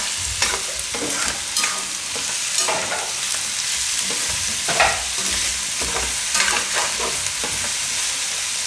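Red chillies and turmeric curry stirred and frying in a pan, a continuous bright sizzle with repeated scraping strokes of the spoon, close and steady with no voices.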